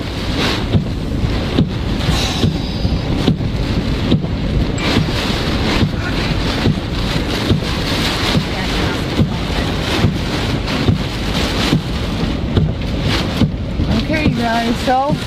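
Hurricane-force wind roars and buffets steadily against a truck during a severe Florida hurricane, a dense, loud rushing wash with rain hitting the body and wind noise on the microphone, no voices.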